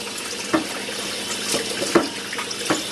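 Cold tap water runs steadily, splashing over a metal pressure cooker, with a few louder knocks and clunks against the hollow surface.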